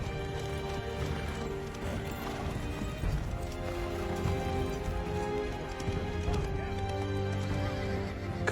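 Horses clip-clopping along with steady hoof beats, occasional whinnies and soft movement noise, moderately near, with faint voices in the background.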